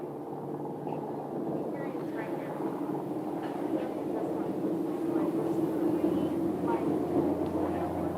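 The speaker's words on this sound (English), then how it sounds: "there goes another of the flight school aircraft" A flight school aircraft passes at Scottsdale airport with a steady, droning engine rumble that stays fairly loud throughout the clip.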